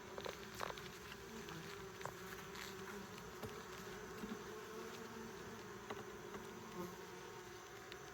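Honeybees buzz steadily and close around an opened hive while a beekeeper works a hive tool, a dense insect hum filling the whole stretch with a few light taps and knocks.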